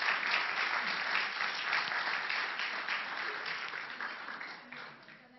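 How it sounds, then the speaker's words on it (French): An audience gives sustained applause, a dense, steady wash of clapping hands that carries on for several seconds before starting to thin out near the end. "je propose qu'on lui donne une grande main d'applaudissement"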